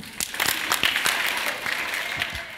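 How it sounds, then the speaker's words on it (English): A crowd performs the farm worker movement's organized hand clap, with many hands striking in unison in a steady run of sharp, loud claps that fill the room. "the way that we do that in the farm worker movement is that we do it with an organized hand clap"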